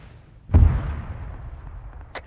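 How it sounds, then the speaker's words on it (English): A frag grenade detonates in ArmA 3 with one sharp, booming blast at mid-distance, its low rumble trailing off over a couple of seconds amid quiet field ambience. "it's just a random frag from an enemy probably in the leg in the field waiting for us"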